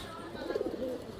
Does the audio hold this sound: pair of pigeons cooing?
yes